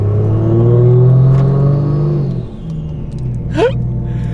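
Toyota Soarer with a 1JZ turbo engine and open intercooler piping, revving loudly up close in a strong low rumble that eases off, followed by a brief rising whoosh.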